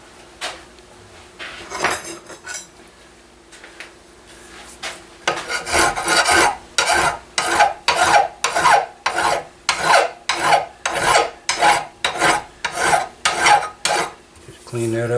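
Steady back-and-forth rasping of a fine metal file on a gun part, starting with a few tentative strokes and then settling into a regular run of strong, close strokes, each one a harsh scrape, with no talk.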